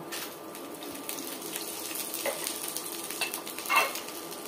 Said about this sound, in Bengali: তেলটা আমার গরম হয়ে গিয়েছে। এখন দিয়ে দিচ্ছি শুকনো মশলাগুলো।